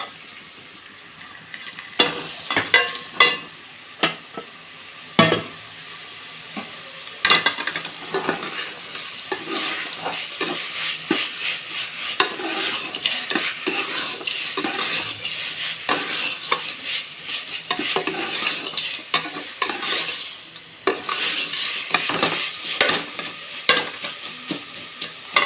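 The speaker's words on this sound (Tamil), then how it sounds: "இப்போ வந்து இந்த வெங்காய தக்காளியோட போட்டு நல்லா கிண்டிக்குவோம்." Close, steady sizzle of onions and tomatoes frying in a pan for village-style crab rasam, broken by repeated scraping clacks of a spoon stirring against the metal, irregular and busy throughout, with no talking.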